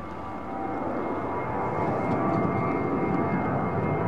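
An aircraft departs runway 09R at London Heathrow Airport, a loud, sustained jet-engine roar that swells after the first half second and then holds as a broad, rumbling takeoff drone.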